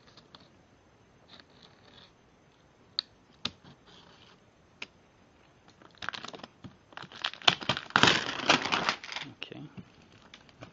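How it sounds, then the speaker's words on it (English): A blade slices and scrapes through a cardboard box holding a framing nailer, scattered clicks and scratches first, then a louder burst of tearing and crinkling cardboard up close, with a brief spoken word. "let's see where I can cut it without destroying the box"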